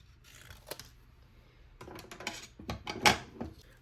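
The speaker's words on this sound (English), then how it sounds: "So I'm just going to do a rough cut to separate them." Scissors rough-cut through paper hearts on cardstock with a scattering of close snips and crisp paper rustles, growing busier and louder toward the end.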